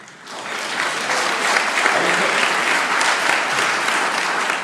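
Audience applause during a leadership talk by Justin Tuck, a steady, dense wash of clapping from a large crowd that swells in after a brief quiet start and stays even throughout.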